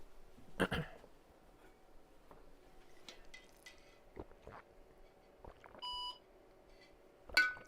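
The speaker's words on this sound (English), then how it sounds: "Beep." Retro 35-year-old computer gives a short, steady electronic beep as it restarts from a King's Quest boot disk, one clear tone amid faint clicks and handling noises, with no talking.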